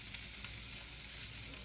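Pastrami and cabbage being stirred in a frying pan, a soft steady sizzle with faint scraping, close and quiet, no voices.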